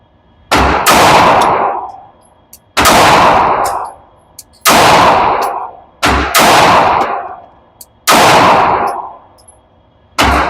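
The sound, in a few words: gunshots from a P365 pistol with Icarus FDEZ Fuse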